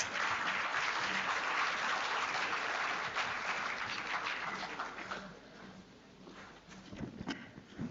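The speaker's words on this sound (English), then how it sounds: "Please join me in welcoming Mr. Tushar Desai with a warm round of applause." A conference audience at Sri Balaji University, Pune applauds loudly and steadily, the clapping fading gradually toward the end before a few scattered claps return.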